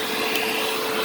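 Vacuum cleaner sucking metal shavings out of a 3KVA 24V hybrid solar inverter case, a steady loud whine heard alone.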